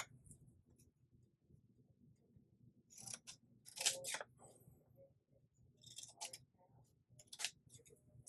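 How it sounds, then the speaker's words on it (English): Scissors snip through paperclip tabs nearby in a handful of short, crisp cuts spaced a second or two apart, with a quiet background hum between them. "So I'm going to cut right here."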